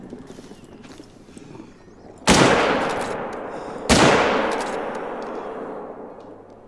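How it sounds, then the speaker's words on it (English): Two loud rifle shots ring out while hunting in the video game Call of the Wild, spaced under two seconds apart. Each sharp crack trails off into a long, rumbling echo. "I definitely want to shoot that one."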